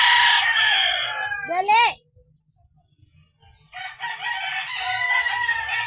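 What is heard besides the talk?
chickens crowing and clucking on chicken farm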